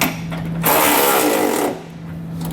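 A power tool spins a 24 mm socket onto a trailer hitch bolt on a 2022 Lincoln Aviator, giving one loud, close mechanical whir lasting about a second between quieter moments.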